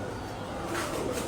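Kaldom pigeons cooing nearby, a short soft throaty coo rising over a dense murmuring background.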